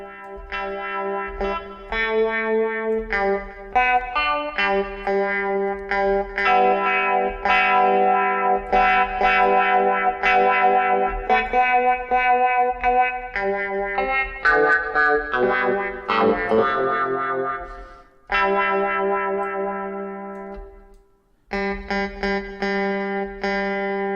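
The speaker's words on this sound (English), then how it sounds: "There's a sort of faux wah effect as well." A funk guitar riff synthesized in Ableton Live's Tension instrument, with a wah-like filter sweep, chopped rhythmic chords playing continuously and loudly, with a short gap before resuming.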